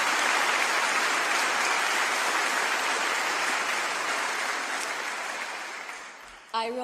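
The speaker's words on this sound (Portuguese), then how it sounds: "E todos aplaudem ela." Sustained applause from an audience at a vigil for Charlie Kirk, dense and steady, slowly fading toward the end before a brief sharper sound cuts in.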